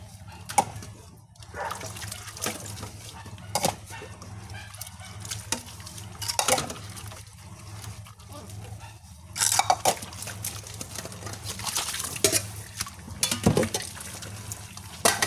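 Water splashes and pours in scattered bursts during washing, fairly faint, while chickens cluck and crow now and then in the background.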